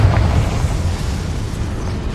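The Confringo fire-blast spell in Hogwarts Legacy goes off as a deep, rumbling explosion, a strong low boom at the start that fades into a sustained roar.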